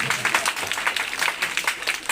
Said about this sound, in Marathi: आमच्या चिमुकल्यांसाठी जर जोरदार टाळ्या वाजवल्या